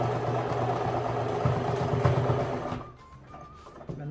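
A sewing machine stitches a dress cuff in a steady, fast mechanical whir with rhythmic needle clatter, close up, then it slows and stops near the end, leaving faint handling noises.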